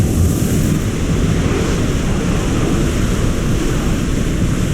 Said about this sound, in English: Storm ahead, Commander!